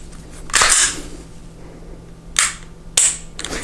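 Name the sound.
Canik TP9 SF Elite pistol trigger pull click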